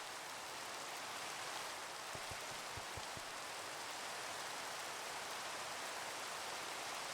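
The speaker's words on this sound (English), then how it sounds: "Let me see if I can sleep to get this rain to go away." Steady, even rain hisses continuously in the video game Minecraft, a dense broadband wash with a few faint low taps partway through and no voices.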